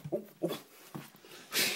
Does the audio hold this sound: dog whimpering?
yes